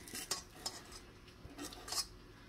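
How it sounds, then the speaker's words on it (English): Metal ice cream scoop scraping and clinking against a bowl while scooping tortilla batter, a few soft scrapes and taps spread over a couple of seconds, quiet and close. "I'm going to scoop the batter"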